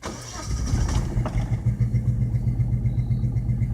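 A worn Geo Metro car engine needing rings, plugs and cap cranks briefly and then catches, settling into a rough, loud, rapidly pulsing idle close by.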